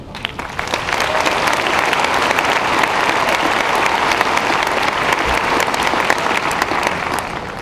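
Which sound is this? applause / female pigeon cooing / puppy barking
applause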